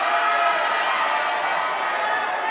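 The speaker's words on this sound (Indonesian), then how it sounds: "Boleh apresiasi tepuk tangan untuk paslon nomor urut 2." A debate audience applauds candidate pair number 2 at a West Java gubernatorial debate, a steady wash of distant crowd clapping with no speech.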